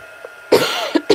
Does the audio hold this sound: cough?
yes